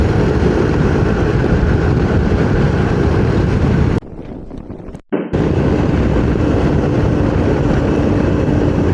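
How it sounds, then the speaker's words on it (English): Motorcycle ridden on the road between Vasai, Karjat and Badlapur, its engine roaring steadily under heavy wind buffeting the microphone, loud and close throughout except for a brief quieter dip about midway, with no talking. "Only noise I like hearing right now is the roaring of my engine and the wind on my face."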